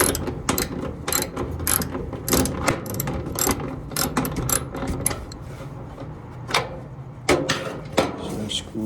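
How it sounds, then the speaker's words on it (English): Socket set ratchet clicking in quick repeated bursts while backing out the idler pulley mounting screw on a Whirlpool gas dryer, close and crisp with small metallic clatter between strokes. "So I got a socket set and take the mounting screw"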